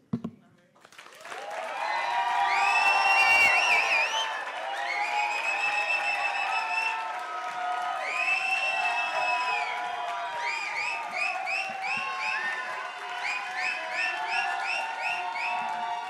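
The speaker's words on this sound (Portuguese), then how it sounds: "é o momento da gente realmente louvar Deus com as nossas palmas, com as nossas vozes, com os nossos assobios" A church congregation in a Portuguese-language worship service claps, cheers and whistles in praise, a dense, sustained wave of applause with rising and falling whistles and voices that starts abruptly and carries on throughout.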